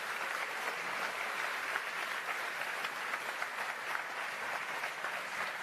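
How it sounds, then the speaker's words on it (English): Audience applause at a game expo for Elite Dangerous, a faint, even wash of many hands clapping that continues steadily throughout without a break. "I feel like I keep cutting the applause off."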